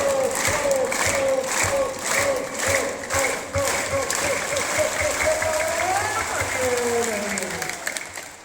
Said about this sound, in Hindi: ओम की ध्वनि के ऊपर ताली